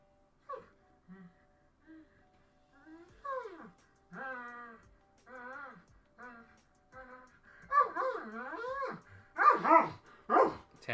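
An Alaskan Malamute barks and vocalizes in a string of close, loud howling, moaning yips that come in uneven bursts and grow more intense toward the end, with no talk over them.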